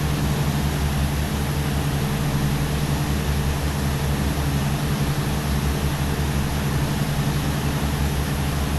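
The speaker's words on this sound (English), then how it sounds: "Let's bring the prop a little bit so we can throw in a little more power." Twin propeller engines of a Tecnam P2006T in the X-Plane 12 flight simulator drone steadily at cruise power, a loud, even, unbroken low hum with no talk.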